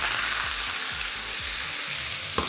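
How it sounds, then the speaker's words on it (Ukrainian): Peas and sliced zucchini sizzle in a frying pan, a steady close hiss with soft rhythmic scraping or stirring beneath it and a small clink at the end. "Відправляємо на пательню горошок і наші порізані цукіні."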